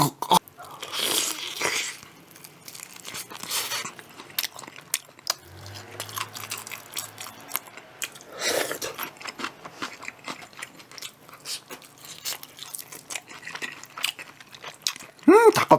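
Crunchy bites and chewing of crispy whole-fried chicken skin, close up, occurring intermittently while someone talks.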